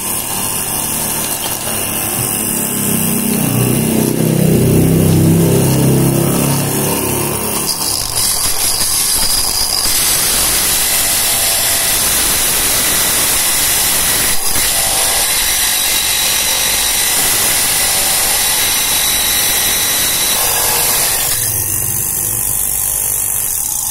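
Loud continuous grinding and sanding noise from a power tool sanding a modified water pump impeller, steady and harsh, with a deeper motor rumble early on.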